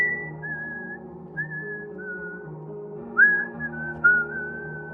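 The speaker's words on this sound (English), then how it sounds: "resuming his whistling." A person whistles a steady, clear melody up close, holding long sustained notes with a few sharper rising notes near the end.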